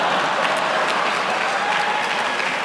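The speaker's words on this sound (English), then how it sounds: "You're going to get lukewarm applause at USC for some of the kids here." Dense, steady applause from the USC audience at an entrepreneurship talk, a continuous wash of many hands clapping, fairly loud and close, with no voices over it.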